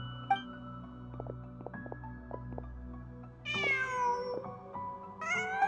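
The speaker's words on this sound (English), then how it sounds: "Huh. Just a cat." A cat in the video game Genshin Impact meows twice, clear, close and rising, over a quiet game backdrop of soft tones and a low hum.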